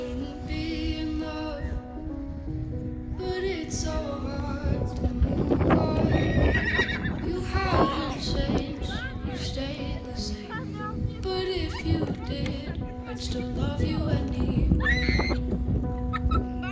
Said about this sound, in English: A bit of excitement there with the horses.